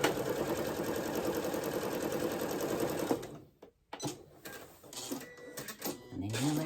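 A sewing machine stitches a potholder piece with a rapid, steady mechanical whir for about three seconds, then stops, followed by quieter handling noises and a voice talking.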